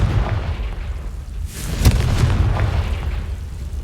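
A booming blast from the Confringo curse in Hogwarts Legacy erupts loudly with a sharp crack near the middle and a rumbling roar around it.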